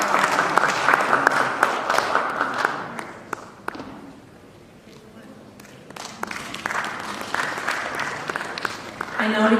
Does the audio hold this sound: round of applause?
yes